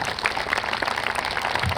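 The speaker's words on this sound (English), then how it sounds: "Frost faculty and staff, round of applause for them." An audience at a Frost Bowl night applauds the faculty and staff, a steady wash of many hands clapping in a large hall, moderately loud and continuous.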